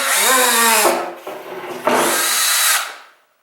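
A cordless drill whirs up to speed as its trigger is squeezed, a loud close whine that stops, restarts in short bursts, then winds down into silence.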